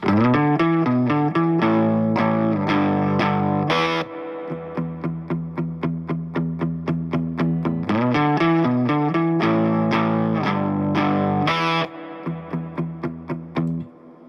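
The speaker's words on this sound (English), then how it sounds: "just popping that channel selector from the bridge pickup to the neck pickup and then back really quick" Electric guitar strums chords through a Boss Blues Driver overdrive pedal in a steady rhythm, the tone shifting between brighter and warmer as the selector switches between bridge and neck pickups.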